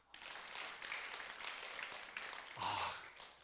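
Applause from a church congregation for the associate pastor during a revival meeting, sustained crowd clapping that swells near the end, with faint voices mixed in.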